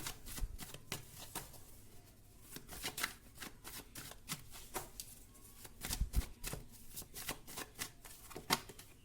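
Tarot cards being shuffled and drawn in a quick, close flurry of crisp riffling and slapping, with short pauses between bursts and no talking.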